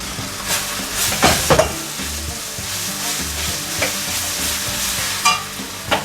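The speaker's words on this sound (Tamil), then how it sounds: "இது கொஞ்சம் வறுபடட்டும்." Vadacurry frying in a pan: constant sizzle with scattered sharp crackles and a few scraping, stirring clicks.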